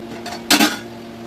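A metal spoon clanks against a pot while gongura chicken curry is stirred, a faint scrape followed by two close, bright clinks, then quiet with a low background hum.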